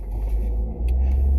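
Car driving along a road, a steady low engine and road rumble close inside the cabin with a brief dip midway, no talking.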